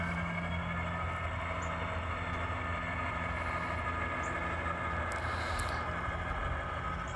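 A model Western Maryland GP40 diesel locomotive fitted with an ESU Loksound decoder produces a steady, continuous engine drone with rail rumble, running alone at an even level throughout.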